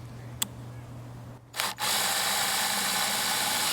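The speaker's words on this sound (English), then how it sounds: "use my impact wrench to cinch it up" An impact wrench cinches a nut on a DIY rotating composter built from two buckets, with a sharp tap first, then a brief stuttering burst and a loud steady whirring rattle that runs to the end, close by.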